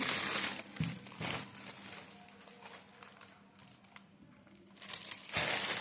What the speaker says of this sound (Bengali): আমি প্যাকেটে ঢুকিয়ে রাখছি।